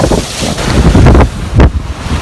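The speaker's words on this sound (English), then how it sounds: "Sort of 20 knots of wind pushing us from behind, and we're zinging along about 6-7 knots." Strong wind of about 20 knots while sailing on the Aegean Sea buffets the microphone in loud gusty rushes, mixed with the wash of water past the moving boat.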